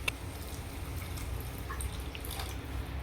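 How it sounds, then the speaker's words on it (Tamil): Water poured into a pan of sautéed squid gravy base, a steady low liquid trickle and splash running continuously near the mic with no talk. "இப்போ இதில் தேவையான அளவு தண்ணி ஊற்றிக்கலாம்."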